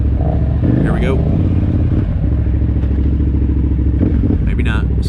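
A KTM 990 Adventure motorcycle engine drones steadily and close while riding single track, with rattles and clatter over rough ground and a rider talking over it.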